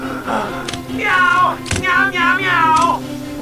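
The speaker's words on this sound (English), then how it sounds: "Meow, meow, meow!" A cartoon cat meows repeatedly in a high, wavering voice, several loud, close meows in a row with short gaps, over a faint steady background tone.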